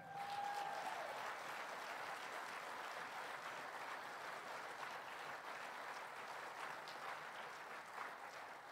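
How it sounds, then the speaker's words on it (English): Steady applause from a gala audience fills the room, a continuous wash of many hands clapping at even volume for about nine seconds, with no talk over it. "they deserve that applause"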